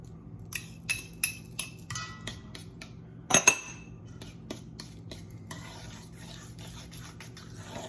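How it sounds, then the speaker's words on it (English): A spoon or whisk stirs sweet potato doughnut batter with a freshly added egg in a bowl, giving quiet scraping strokes and a few sharp clinks against the bowl's side, with a short louder knock midway. "Mix everything really well."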